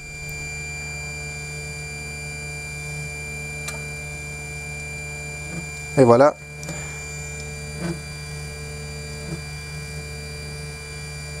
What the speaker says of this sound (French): Entendez-vous le genre de frottement qu'il y a?